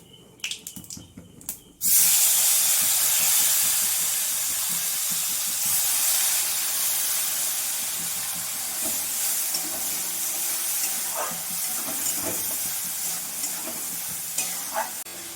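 A loud, steady sizzle of paste frying in hot oil, continuous and close, with occasional stirring scrapes and no talking.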